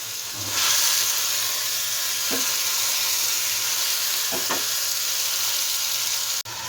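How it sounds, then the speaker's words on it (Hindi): Meat frying in spice masala in a pan, a loud steady sizzle and hiss close up, with a few brief stirring scrapes and no talking. "गोश्त को हम यहाँ पे बहुत ही अच्छी तरह करेंगे, इसमें मसाले में भून लेंगे"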